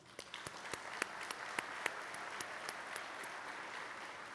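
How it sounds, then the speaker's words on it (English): Audience at a public transportation conference general session applauds, a faint, steady spread of distant clapping with a few sharper individual claps standing out. "Please give them a round of applause."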